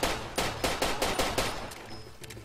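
Rapid bursts of automatic gunfire from the Far Cry 2 video game, about seven loud sharp shots in quick rhythm, with no talking.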